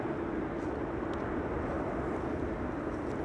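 A landing aircraft deploys its thrust reversers at Amsterdam Schiphol during a storm, producing a steady, faint, distant broadband roar that persists without clear peaks under wind noise.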